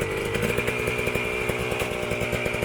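Dirt bike engine pulling away uphill on an enduro practice trail, the clutch slipped to gain momentum; a steady, loud, buzzing engine drone with a rapid firing pulse held near, alone without voices.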